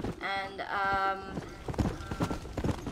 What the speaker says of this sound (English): I found one of the apocalypse horses, which is one, which is this one.